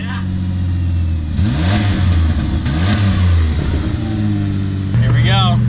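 A Ford Escape with its muffler deleted revs hard, its loud raw exhaust note climbing and falling in repeated sweeps up close, with a deep drone between pulls.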